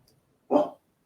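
One short dog bark sounds at close range in a quiet room, with no voices during the bark.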